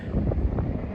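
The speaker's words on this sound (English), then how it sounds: "It's windy." Steady wind in Laramie, Wyoming buffeting a microphone, a low rumbling roar with gusty swells that runs through the whole moment without pause.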